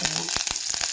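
Mustard seeds sizzling and popping in hot oil for masala sundal, a dense frying hiss broken by several quick crackling bursts, close and alone.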